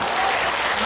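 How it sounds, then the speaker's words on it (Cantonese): A short burst of continuous group clapping for a teacher at a trio singing awards event, even and fairly loud throughout with no talk on top. "再俾掌聲老師"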